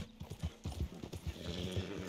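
Horse hooves clip-clop in steady rhythm from a horse in Red Dead Redemption 2, close and fairly loud, with a brief whinny-like sound and game ambience around them.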